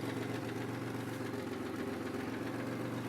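A 2002 Chevy Malibu engine idles steadily with a constant mid-pitched hum and faint knocking vibration, heard close and alone.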